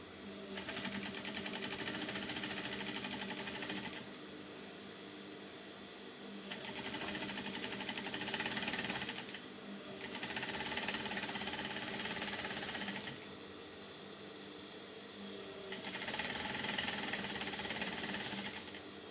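A sewing machine runs in several bursts of a few seconds each while hemming a halterneck dress, its close, even whir stopping briefly between runs.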